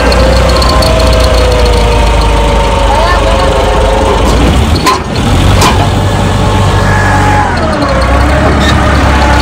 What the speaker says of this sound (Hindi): दिक्कत आ रही ट्रैक्टर नहीं निकल रहा